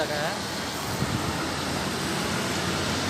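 A bus engine's continuous low rumble hums steadily throughout, close by, with a faint tonal whine near the start and no speech.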